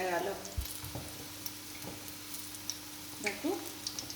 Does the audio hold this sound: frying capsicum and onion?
yes